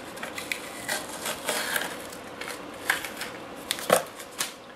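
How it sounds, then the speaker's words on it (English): Masking tape peeled off a Tamiya 1/10 Ford Bronco RC car body, giving brisk crackling rips and light plastic crinkles in short bursts, close and soft, with no voices. "I'm going to go ahead and peel off the rest of this tape"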